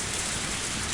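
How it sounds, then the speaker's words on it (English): Heavy rain pours in a visual novel game, Higurashi When They Cry Hou, as a dense, unbroken hiss of downpour that stays loud and steady for about a second with no voices. "It was raining far too hard to see the moon."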